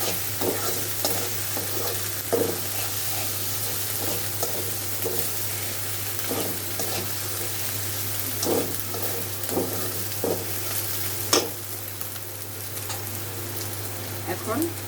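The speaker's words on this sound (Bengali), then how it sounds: "ভাজা ভাজা হলে রসুনটা, তারপরে এক এক করে মশলা দিয়ে দিব" Onion, garlic and spices frying in oil in a pan for a pabda fish curry, with a steady close sizzle broken by repeated stirring scrapes and a constant low hum underneath.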